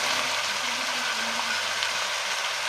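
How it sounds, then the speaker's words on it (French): Onions fry in a pan for rougail saucisses, giving a steady, even sizzle of hissing crackle that continues without a break beneath a faint low hum. "Et on laisse revenir aussi le temps que nos oignons deviennent translucides"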